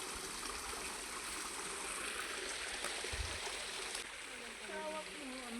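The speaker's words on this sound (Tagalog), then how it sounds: "Yan, umaagos ang tubig." A rain-swollen river rushes steadily nearby in a continuous broad roar, with brief louder splashes and a faint voice or bird call near the end.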